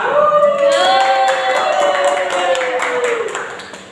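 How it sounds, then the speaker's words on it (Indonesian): A student group in a classroom is applauded with a short round of clapping, while young voices call out over the claps before the sound tapers off. "tepuk tangan dulu untuk kelompok Prima"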